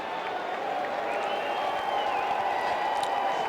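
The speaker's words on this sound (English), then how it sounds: "Well, they've scored at that end of the ground, Dennis. Hence the cheer." Stadium crowd at an Australian football match between Port Adelaide and St Kilda, a sustained broad roar of cheering and applause from a distant end of the ground, steady and even throughout.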